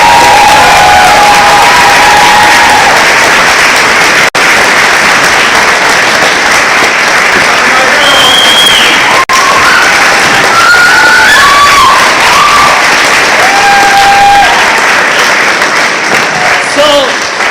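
A live show audience gives a young female performer loud, continuous applause with cheering and whistles, a dense crowd sound that holds strong throughout.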